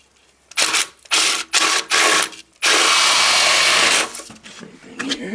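Power drill boring into the styrofoam of a Quad Lock ICF wall, loud whirring bursts: several short runs, then one long sustained drilling stretch, tapering at the end.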